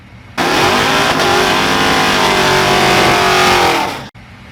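A truck fitted with an E4OD/4R100 automatic and trans brake valve body revs loud and close in drag race mode, a sustained roaring hold of about four seconds that sags slightly before cutting off abruptly.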